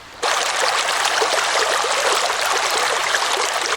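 River water flows swiftly past a fishing net set in the current, a steady loud rushing and gurgling that starts abruptly and holds evenly throughout.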